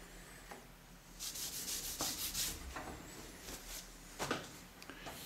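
A cloth rubs marking blue off a scraped steel angle plate, giving soft uneven swishing strokes of scuffing friction at close range and low volume, with no speech.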